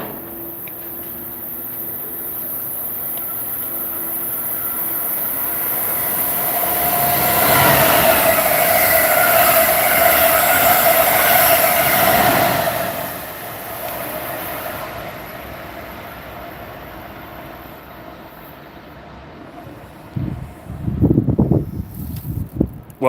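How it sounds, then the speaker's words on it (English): Amtrak trains roll past on the Northeast Corridor, rails singing with a sustained metallic whine as wagons rumble by loudly, then fading to a distant hum before clattering wheel noise returns near the end. "And I hear singing rails."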